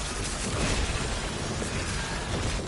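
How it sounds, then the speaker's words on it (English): Void energy explosions in the game Warframe, a dense continuous roar of blasts and crackling noise, loud and sustained without pause. "Oh, it's the explosions with void energy."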